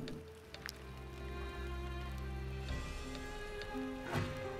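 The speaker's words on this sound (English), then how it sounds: "It's raining." Rain falls in the video game Wartales: a soft, steady patter of drops layered over a low ambient drone, with occasional brighter splashes and shifting game tones, fairly quiet throughout.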